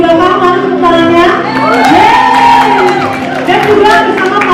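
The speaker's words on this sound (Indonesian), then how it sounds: "mana tepuk tangannya" Fans at a film first-look press conference clap, cheer and whoop as a loud, sustained crowd noise, with shouted voices rising over the applause.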